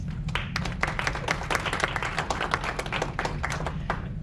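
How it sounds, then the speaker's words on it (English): A crowd applauds continuously, many hands clapping in a dense, lively patter throughout. "give yourselves a round of applause"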